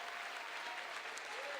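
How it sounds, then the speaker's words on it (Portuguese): A church congregation claps together in steady, sustained applause, heard from some distance and fairly quiet. "Tinha que ser mais forte este aplauso."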